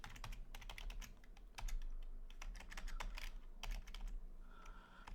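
Typing on a computer keyboard: quiet, steady clicking of keys in quick irregular bursts, close to the microphone and alone.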